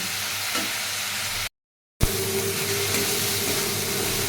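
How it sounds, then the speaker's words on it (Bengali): Masala frying in oil while being stirred, a steady close hiss and sizzle with faint scraping, cut by a half-second dropout before the same sizzle resumes, no talk. "তেল ছাড়া অবধি ভালো করে কষিয়ে নেব।"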